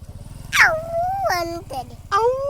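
A small child imitates a dog with a few high, whining yelps and barks in short bursts, voiced close up over a low background hum.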